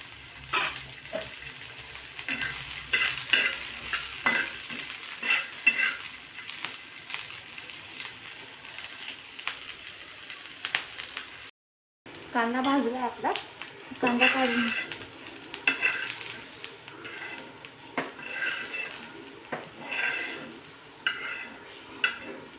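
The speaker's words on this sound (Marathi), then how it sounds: "कांदा आपल्याला व्यवस्थित भाजून घ्यायचा त्याच्यावर टाकते एक चमचा तेल" Onion roasts in a spoonful of oil for matki dal, a crackling sizzle under repeated close stirring clinks and scrapes of a utensil on the pan, broken by one brief silent gap.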